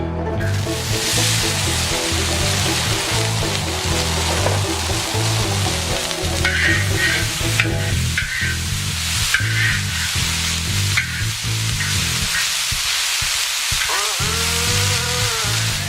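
Chilies sizzling and crackling on a hot discada during stir-frying, a dense, loud, continuous hiss with scraping stir strokes and small pops, close up and without talking.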